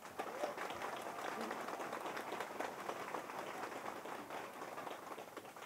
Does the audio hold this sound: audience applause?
yes